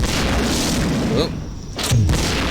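Heavy grenade launcher explosions in the video game System Shock 2, a loud sustained boom with a muffled dip and a second deep thump, continuous and close.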